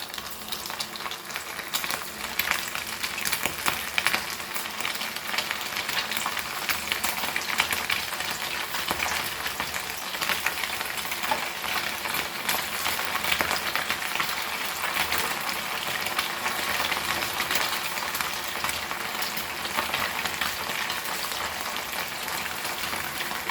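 Tiny Goan motiyale fish frying in hot oil over a low flame, a steady close crackling sizzle with fine spitting pops that holds evenly throughout, unaccompanied by talk.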